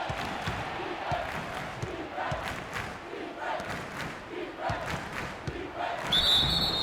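During an NBA 2K16 basketball game, a referee's whistle gives one sharp, steady blast near the end over constant arena crowd noise.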